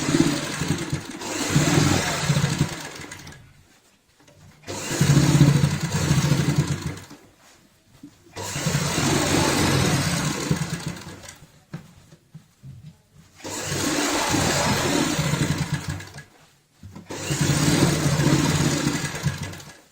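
A sewing machine stitching a frill onto a homemade doormat runs in five steady bursts of a few seconds each, a close buzzing whir with brief silent pauses between runs and no talking.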